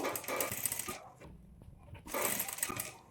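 A sewing machine runs in two bursts while stitching piping onto a blouse, with a short pause between runs; the motor whirr is steady and close, with no talking.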